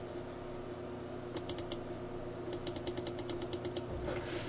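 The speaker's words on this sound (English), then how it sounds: "I'm going to fine-tune by clicking the arrow keys" Computer keyboard arrow keys are pressed in two quick bursts of light, close clicks over a steady hum of room or fan noise.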